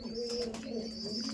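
Laldom and Kaldom breeding pigeons, kept in pairs, coo softly in a low, continuous rolling murmur nearby, with a faint higher chirp over it and background room noise.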